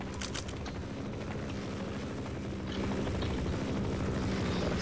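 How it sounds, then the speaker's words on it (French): A helicopter in the video game Half-Life gives a steady, rumbling rotor chop and engine drone that swells slightly louder partway through, heard alone without talk. "là on entend un nouveau hélicoptère"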